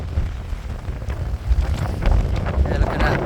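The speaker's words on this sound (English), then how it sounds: "A bit more windy today." Gusty wind buffets the microphone at a marina by choppy water, a loud rumbling roar that swells and dips throughout.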